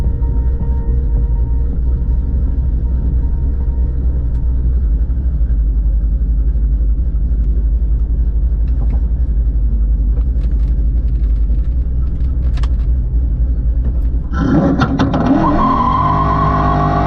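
A drag race car fitted with a Terminator X 2-step sits on a no-prep track with a deep, loud idling rumble, then launches into a sudden roaring, rising surge of engine noise near the end.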